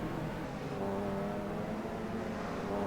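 BMW touring race cars in a racing video game at Fuji, a continuous droning engine note held steady throughout, moderately loud with no break or passing surge.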